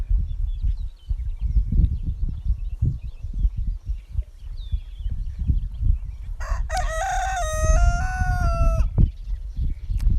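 A rooster crows loudly once on a farm, a long harmonic call rising and falling, over a background of low rumbling noise and scattered faint clucks from chickens.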